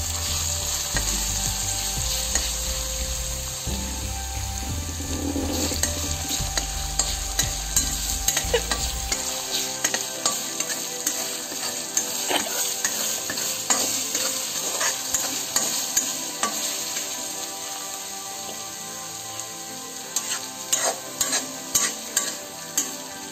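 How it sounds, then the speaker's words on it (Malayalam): Garlic and ginger paste frying in hot oil for a dried fish and mango pickle, stirred steadily, with a dense sizzle throughout and repeated scraping strokes of the spoon against the pan. "വെളുത്തുള്ളി പേസ്റ്റ് നമുക്ക് അതിലോട്ട് ഇട്ടെടുക്കാം. ഇഞ്ചി പേസ്റ്റും ഇട്ടെടുക്കാം."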